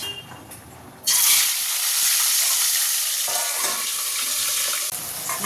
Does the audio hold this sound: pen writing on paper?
no